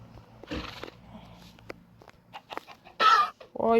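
A Minecraft horse whinnies and snorts among scattered clucks and short game sound effects, with quiet bursts of talk in between.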